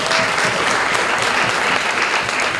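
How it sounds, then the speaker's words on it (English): Steady audience applause at a debate competition, a dense, even wash of many hands clapping for the whole short stretch. "Give him a round of applause."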